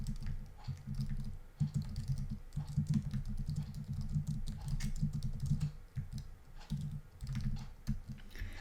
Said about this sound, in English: I'm going to go ahead and type my secondary heading here.